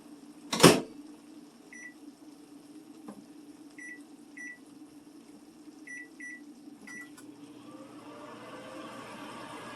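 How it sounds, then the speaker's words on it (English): A sharp knock, then a steady low microwave hum with occasional short beeps and clicks, the running drone rising slightly toward the end. "I'm going to pop this in the microwave for a few minutes"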